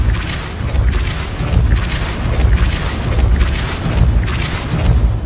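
Depulso force spells cast in Hogwarts Legacy produce a loud series of deep, booming pulses at a steady, almost rhythmic pace, with no talking.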